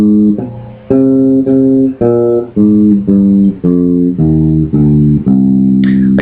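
Bass guitar plays a C natural minor scale, eight clean, evenly spaced plucked notes rising one after another, each ringing briefly, loud and close.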